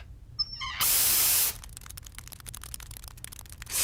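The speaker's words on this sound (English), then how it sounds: "That's when we spray nitrous in the ant farm and watch them go nuts." A short, loud, forceful hiss of nitrous being sprayed into an ant farm lasts under a second, after a few faint clicks and followed by scattered crackling ticks.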